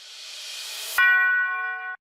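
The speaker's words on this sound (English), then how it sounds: "For the next part, I have a crash and a church bell." Produced music-track samples: a hissing crash cymbal swells for about a second, then a bright church bell strikes once and rings with sustained metallic overtones before cutting off abruptly.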